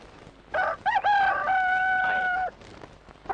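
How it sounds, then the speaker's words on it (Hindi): A rooster crows in an old Hindi film, one clear, loud drawn-out cock-a-doodle-doo lasting about two seconds, alone with no talk over it. "तो सूरदास, क्या तूने मेरे मुर्गे को कहीं देखा है?"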